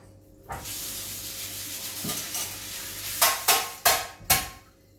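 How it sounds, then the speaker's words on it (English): A wire whisk with a broken wire beats a mixture in a bowl: a hissy background stir, then four quick, loud, evenly spaced scraping strokes close by, with no talking. "I'll whisk it up wherever it is"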